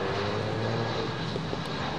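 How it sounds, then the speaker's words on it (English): Jet airliner at London Heathrow, with steady broadband engine fan roar heard from a distance and no pauses throughout. "it's the sound of the air and the fan blades."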